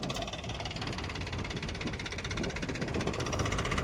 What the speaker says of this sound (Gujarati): આ બીજો ટ્રેક્ટર ખાલી કરવાનો.